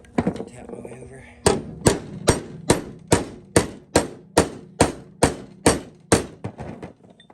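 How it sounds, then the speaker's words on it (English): A hammer taps steadily along a fresh metal weld in a garage repair, about a dozen sharp, evenly spaced metallic strikes, loud and close, after a few quieter knocks at the start. "Tap my way over."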